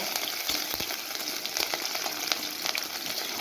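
Slit green chilies sizzling hard in hot oil, a dense, even crackle close by with a few light knocks of a spatula as they are tossed, no speech.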